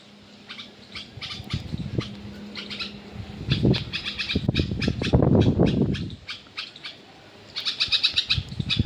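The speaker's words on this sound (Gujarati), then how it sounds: "ઓલી ચકલી જોઈ લઈએ કેવી નાઈ રહી છે" A sparrow bathing on farmland and other busy small birds chirp and tweet repeatedly close by, with scattered bursts of sharp chatter against a low background rumble.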